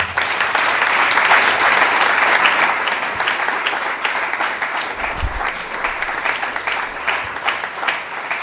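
A church congregation claps in acclaim of the Lord during a sermon on marriage, dense sustained applause that starts loud and eases slightly while continuing throughout.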